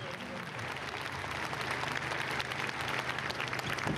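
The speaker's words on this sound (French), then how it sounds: "Arrivé sous les applaudissements parce que oui, c'est une première." Steady applause from a crowd greeting the arrival of the small E-Fan electric plane after its first Channel crossing, continuous and fairly loud for the whole stretch with a dense crowd wash.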